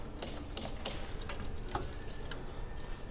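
A mechanical disc brake rubs slightly on an electric bike wheel after pad adjustment, giving faint, irregular light ticks and scrapes close by, with no talking.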